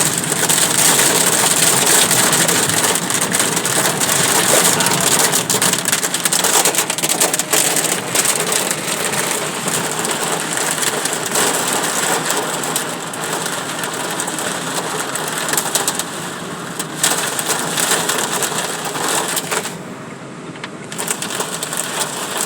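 Hailstorm pelting a car on the Mogi-Dutra highway near Mogi das Cruzes, Brazil, a loud, dense, continuous clatter of hailstones and rain on the vehicle, steady throughout with an engine faintly beneath.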